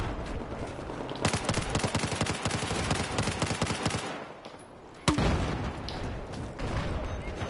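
Rapid automatic gunfire from a shooter video game played on PS4, a dense burst of shots followed by a pause and a sharp loud blast, then continued firing; no talking.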